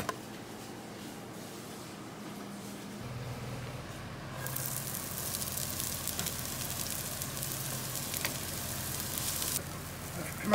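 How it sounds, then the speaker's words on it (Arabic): Onions sautéing in a pan while a fish qashid is cooked: a soft, steady sizzle grows much louder and brighter after a few seconds, then continues as a dense, even frying hiss. "حمسنا البصل، بننزل الثوم الحين."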